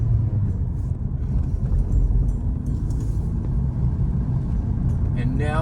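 A four-cylinder car engine idles evenly after an ignition coil is replaced, having earlier been missing on one cylinder. It is a low, steady rumble close by, with a person talking over it and a brief rising chirp at the end.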